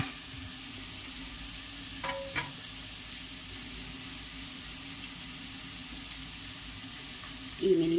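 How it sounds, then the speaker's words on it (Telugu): Vegetables frying in a pan on a home stove give a steady, soft sizzle throughout, with a couple of brief utensil clinks near the middle and a short louder scrape at the end. "మనకి ఇవి ఫ్రై అవుతూ ఉంటాయి."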